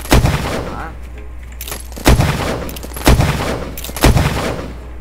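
Explosives such as C4 detonating in the Minecraft Decimation mod, four sharp booming blasts about a second apart, each with a short rumbling tail over a steady low hum.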